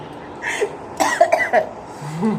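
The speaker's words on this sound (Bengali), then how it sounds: "কাশি এসে গেল, ভীষণ পেয়ে গেল" A few harsh coughs in a quick burst, close to the listener, followed by a short pause and a faint throaty sound.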